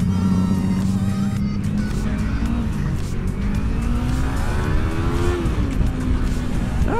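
A 300 cc engine pulls hard under acceleration, its loud, buzzing note climbing steadily in pitch through several rising sweeps, close and continuous with no talking.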